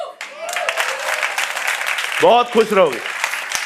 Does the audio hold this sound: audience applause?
yes